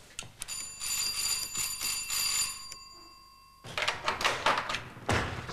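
Doorbell ringing inside a house in a 1984 German crime drama, a sustained bright ringing tone that lasts a couple of seconds, then stops before shuffling and knocking noises follow.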